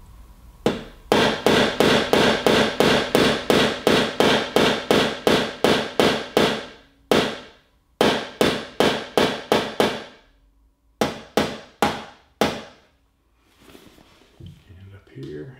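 A ball-peen hammer taps a dolly while working out small dents in auto body panel repair, delivering rapid runs of sharp, loud metallic strikes in bursts separated by brief pauses.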